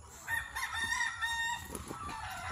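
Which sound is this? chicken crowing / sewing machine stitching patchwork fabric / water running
chicken crowing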